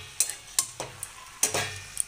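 Cabbage frying in a pan, with soft sizzling under sharp scraping stirs of a utensil against the pan, several distinct strokes spaced unevenly over two seconds, quiet and close.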